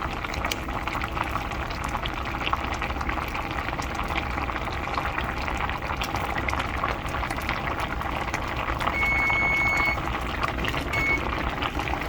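Pasta bubbles in a pot of water on a stovetop, a steady close rolling boil with a brief electronic beep partway through.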